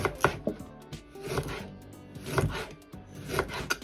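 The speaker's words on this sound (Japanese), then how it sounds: "なるべく薄く切った方がいいかなと思います。" A knife slicing broccoli stems into thin rounds on a cutting board, about four firm, evenly spaced crunchy cuts, close and clear, with no speech.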